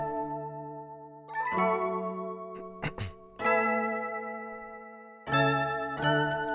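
Unprocessed mallet and string factory presets play a sequence of bright struck tones over sustained string chords, with note changes roughly every second or two and a couple of sharp percussive hits near the middle.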